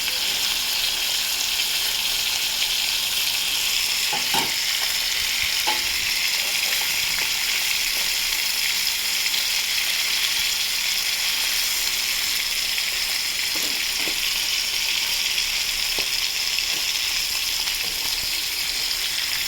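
Hilsa fish pieces frying in oil in a pan over a low gas flame, a continuous even sizzle with soft bubbling and occasional faint taps, close and steady with no talk.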